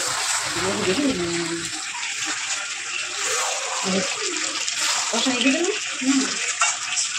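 Water runs steadily from a tap during washing-up after cooking in a home kitchen, a continuous hiss and splash with clattering dishes, while people talk over it.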